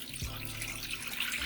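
Water poured into a cooking pot on a stovetop, a steady, close, splashing stream running throughout the short moment without any talk.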